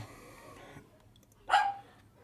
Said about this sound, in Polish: pies mnie ochrzania, więc będę kończył